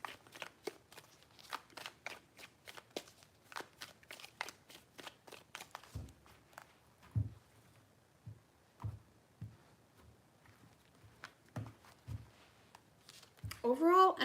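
Tarot cards being shuffled give a quiet, close series of crisp riffling flicks and soft taps in an otherwise silent room, with a brief burst of louder handling at the end.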